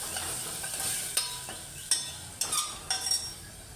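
Tomatoes sauté in a pan with a soft, steady sizzle. A spoon or spatula gives several distinct scraping stirs against the metal at irregular moments, close and clear, with no talking.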